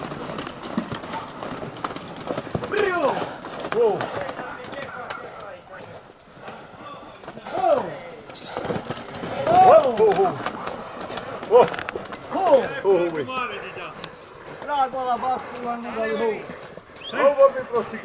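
Working horses in a forest setting at Ciceu Mihaiești, Bistrița-Năsăud, with hooves clip-clopping unevenly amid rustling and creaking, while a man repeatedly calls and urges the animals on loudly throughout.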